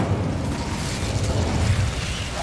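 An Incendio fire spell cast in Hogwarts Legacy gives a steady, rumbling burst of flame that roars continuously at close range, with no voices over it.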